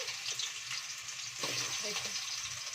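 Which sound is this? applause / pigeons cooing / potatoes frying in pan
potatoes frying in pan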